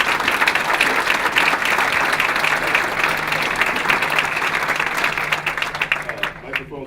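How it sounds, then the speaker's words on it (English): Loud, sustained applause fills a large room at a Martin Luther King Jr. unity breakfast, a dense steady wash of clapping that continues throughout and thins slightly near the end. "let's give him a round of applause for all that he does"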